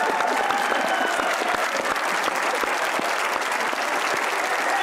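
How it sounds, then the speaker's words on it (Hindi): An audience at a cricket talk show applauds. Dense, steady clapping from a crowd fills about five seconds without a break. "ताली होनी चाहिए शान भाई के लिए।"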